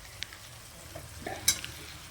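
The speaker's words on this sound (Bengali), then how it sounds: "সেটা মিশিয়ে যতক্ষণ না পুরো পেস্টের মতো না হয়" A potato and bottle gourd spice paste fries in a pan and is stirred, with a quiet, steady sizzle broken by a few brief scraping clicks, and no talking.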